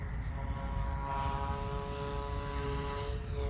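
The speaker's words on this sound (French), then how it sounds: "il fait vraiment le bruit d'un Mustang" A radio-controlled P-51 Mustang model airplane runs its engine and propeller close by, holding a steady droning buzz with a strong low rumble and clear harmonic tones.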